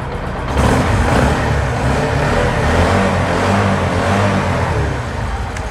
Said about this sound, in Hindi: ये बाइक मैं ऑन करके थोड़ा इसका एग्जॉस्ट साउंड भी सुन लेते हैं